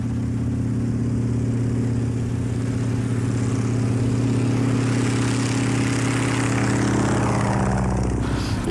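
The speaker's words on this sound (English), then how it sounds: "He flies a replica of the SE-5A, the plane my grandfather flew later in the war." A replica SE-5A biplane engine and propeller drone steadily in flight, a loud, close rumbling hum that holds throughout and shifts slightly near the end, with no voices.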